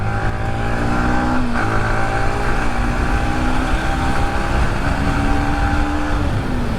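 Yamaha MT15 motorcycle engine running steadily and close, a continuous loud drone with a brief rise in revs near the middle, heard alone without talk.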